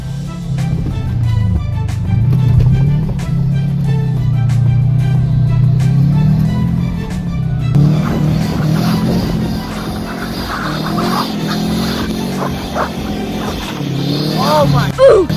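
Subaru WRX engine ripping hard through first gear in snow, a loud revving engine note climbing and shifting tone over several seconds, with excited talk over it.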